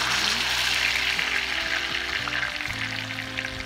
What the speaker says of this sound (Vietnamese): Giống như là nó chiên sơ cái con cá của mình luôn vậy đó